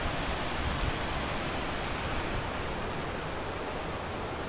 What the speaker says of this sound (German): Das ist der Fluss.